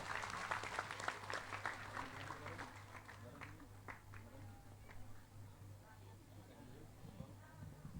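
A crowd at a Hari Santri Nasional 2022 gathering with Gus Miftah applauds for a police traffic director. Loose, fairly faint clapping is strongest at the start and fades over a few seconds, over a steady low hum and murmuring voices.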